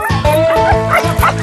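Many sled dogs, huskies, bark, yip and whine together in an excited, overlapping chorus, loud and close, with no pause.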